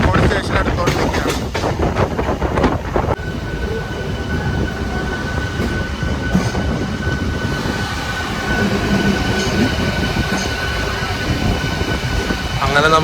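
Passenger train slowing as it pulls into Kanjikode station on the Thrissur–Walayar line, a steady loud rumble of wheels and carriage noise with faint rhythmic clatter and brief voices early on, continuing throughout.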